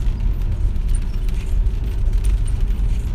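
Steady low rumble of a car driving heard from inside, with continuous road and engine noise at an even level throughout.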